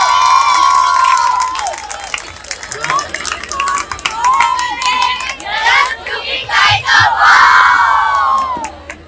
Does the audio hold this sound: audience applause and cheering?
yes